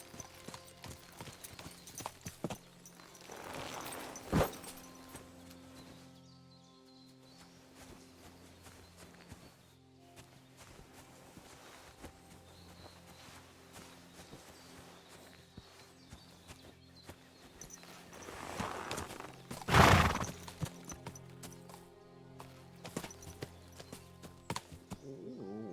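Horse hooves clip-clop at a walk in the medieval Bohemian world of Kingdom Come Deliverance 2, a steady rhythm under game ambience, with a brief whinny or snort standing out partway through.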